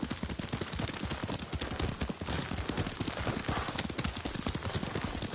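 Horse hooves clip-clopping in a quick, steady rhythm while riding in the video game Ghost of Tsushima, loud and continuous throughout.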